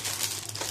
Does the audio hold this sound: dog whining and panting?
no